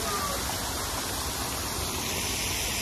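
Water fountains splash steadily at an outdoor attraction during a birthday celebration outing, a dense continuous rushing wash with no pauses and no voices.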